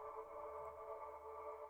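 Dreamy synth texture with grain delay in Ableton Live for a melodic house track, a soft sustained airy tone humming steadily and faintly, alone.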